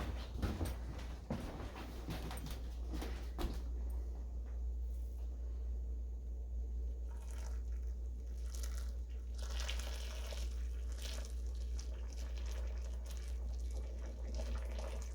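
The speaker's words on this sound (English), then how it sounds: "Pouring it in the filter." Hot maple syrup pours into a filter indoors, a low liquid trickle and rumble under a steady hum, with a few clunks and scrapes of the pot early on.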